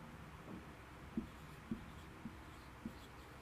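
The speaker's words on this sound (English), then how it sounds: "So let's write it down here." Writing notes by hand during an English lesson, heard as faint, quiet scratches and taps from the pen in short strokes spaced roughly half a second apart, with no talking.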